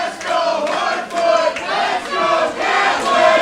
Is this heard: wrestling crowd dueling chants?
yes